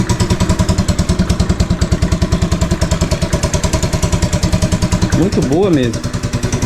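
A small motorcycle engine just started and now idles with a rapid, even putter that pulses steadily close by and loud. Someone speaks briefly over it near the end.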